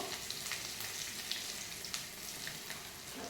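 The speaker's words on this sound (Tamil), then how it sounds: "பூண்டு பல் ஒரு 3 பல் தட்டி போட்டிருக்கேன். அது கொஞ்சம் கலர் மாறட்டும்." Crushed garlic and asafoetida fry in hot oil with a steady, close, bright sizzle that holds evenly throughout, with faint crackles and no voices.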